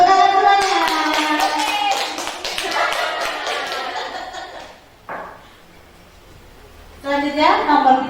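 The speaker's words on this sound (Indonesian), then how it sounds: "Tepuk tangan semuanya." A classroom group claps hands together in a burst of applause for several seconds, then it fades; brief talk and a short lively voice follow near the end.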